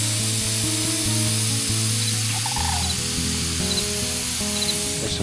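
Water sprays from a leaking garden hose in a late-season Michigan vegetable garden, giving a steady, continuous hiss over a low, layered hum that persists throughout.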